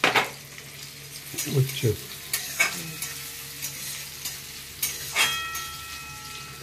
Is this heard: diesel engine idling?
no